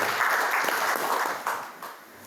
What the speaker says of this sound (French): Permettez-moi de saluer cette acclamation